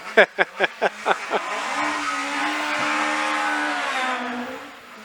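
Hill climb race car with an XE engine launches hard off the line, a rapid burst of staccato revs and wheel spin giving way to a sustained, loud engine howl as it pulls away.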